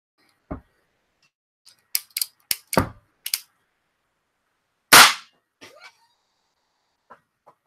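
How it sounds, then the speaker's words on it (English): A cap and ball gun is capped and fired, with one loud sharp report among scattered smaller clicks and snaps of handling and loading, each sound separated by silence. "That's how you shoot a cap and ball gun."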